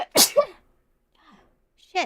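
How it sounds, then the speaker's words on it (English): A single sharp sneeze bursts out close and loud near the start, followed by a short exhale, with a quiet muttered voice and a brief spoken word afterward. "Oh fuck, I gotta sneeze."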